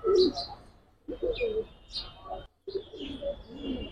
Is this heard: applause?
no